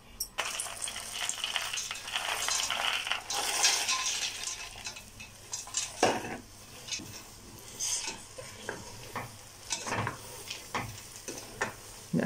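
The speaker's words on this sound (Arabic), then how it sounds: "نقلب بقى كده كله مع بعض." Carob juice ingredients stirred together in a pot, with irregular scraping and clinks of a utensil against the metal and a soft sizzling texture, close and fairly quiet, no talking.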